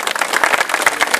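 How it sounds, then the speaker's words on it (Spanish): Applause from an audience of seniors at a municipal event in Ibagué, a quick, steady patter of many hands clapping close by, bright and busy, with no talking over it. "Un aplauso para la doctora Carmina Barón, vamos."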